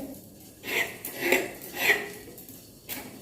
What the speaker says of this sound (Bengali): সিমটা কেটে নিই সিমগুলো গোটা গোটাই ভাজবো